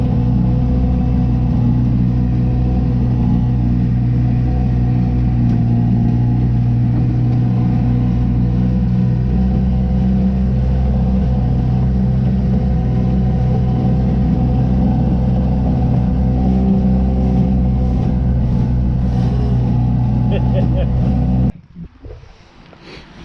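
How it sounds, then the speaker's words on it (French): A two-cylinder boat engine runs roughly and misfires, a loud, steady, close rumble that chugs unevenly for over twenty seconds before cutting off abruptly near the end. "Il tournait toujours en mode brouté, tu sais, comme s'il tournait sur 2 cylindres et demi."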